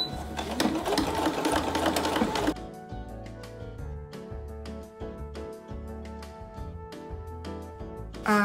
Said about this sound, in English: I think the first thing I will do is sew that dart in the back